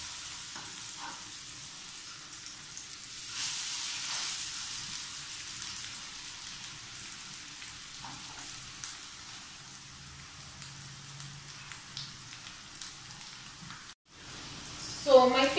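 A fish fillet fries in a pan over medium-high heat, a soft, faint sizzle running steadily underneath, with a brief break and then a louder burst of crackle near the end.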